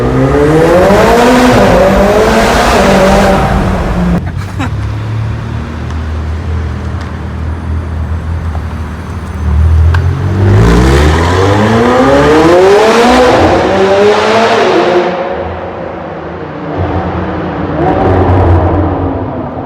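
A McLaren 720S engine revs up hard in two loud surges, the pitch climbing steeply each time, close by with a roaring exhaust between bursts.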